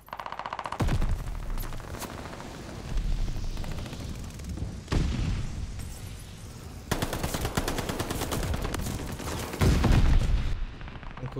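Dense automatic gunfire from the video game Call of Duty Vanguard, with rapid bursts and heavy booming shots stacked loudly and continuously, pausing briefly before resuming with close, punchy fire.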